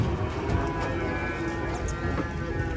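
Cattle moo loudly and up close while being unloaded from a truck, one long drawn-out bellow amid farmyard commotion.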